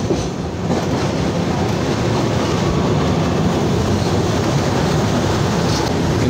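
Passenger train running from Bandel to NJP, a loud, steady rumble heard from inside the carriage with continuous wheel and track noise throughout, no voices.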